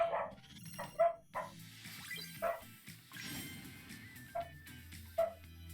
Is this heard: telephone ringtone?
no